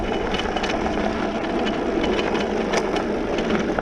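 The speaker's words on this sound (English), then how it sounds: "That rattling might actually be the motor." Rattling, buzzing motor of a Super73 R electric bike riding a dirt trail, a steady broadband rumble with wind noise and small clicks throughout, close and continuous without pauses.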